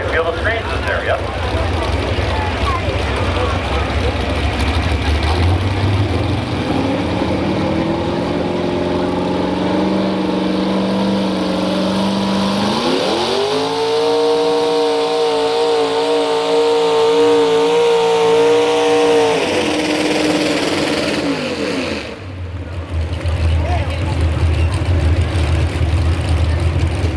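Pulling tractor engines roaring at a tractor pull at the Buck, a loud, continuous engine drone that climbs to a high, steady howl, then drops off abruptly before the rumble resumes.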